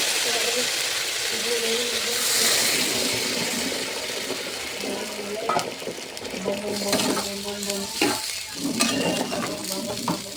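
Partly boiled vegetables in a pan with water just added give a steady steaming sizzle and hiss, joined later by clinks and scrapes of stirring close by.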